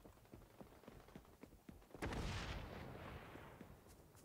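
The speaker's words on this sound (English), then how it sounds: "Grenade. Frag out!" Frag grenade explosion in the shooter game xDefiant, a sudden heavy boom with a rumbling tail that lingers for about two seconds after scattered lighter gameplay thuds and clicks.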